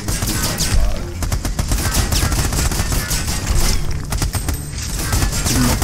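Sustained suppressive gunfire from Army of Two rattles in rapid bursts of loud, close automatic shots for several seconds, layered with mechanical clatter and more distant firing.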